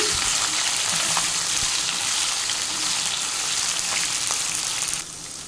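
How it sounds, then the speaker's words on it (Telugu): Cut raw banana pieces frying in oil with curry leaves, a dense, even sizzle like steady rain that holds loud and close, then drops off abruptly near the end, with no talking. "ఇప్పుడు అరటికాయని మనకి నచ్చిన షేప్లో కట్ చేసుకుని వేసుకోవాలి."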